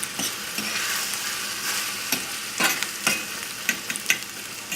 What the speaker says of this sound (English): I'm going to add the tomato. That's on a low flame, and that'll just simmer.